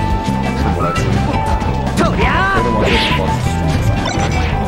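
Up smash attack landing in Super Smash Bros. Melee during a Fox versus Marth tournament final, a sharp crashing hit amid game effects and swooshes, with commentators talking over it.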